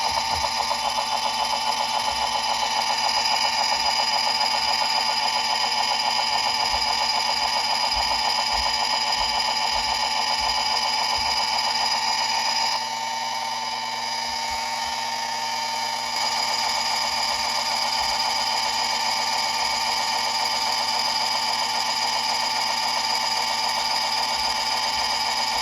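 Manson miniature lathe cutting 1/8 inch aluminum rod, a continuous whining motor hum with a steady high cutting tone and faint rhythmic ticking, close and even, briefly dropping quieter midway before resuming.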